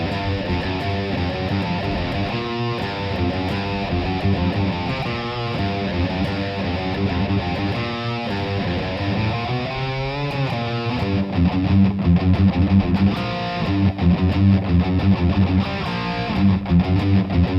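Distorted electric guitar plays a song's main riff and verse, a continuous chromatic rock pattern that is loud and close, with no talking.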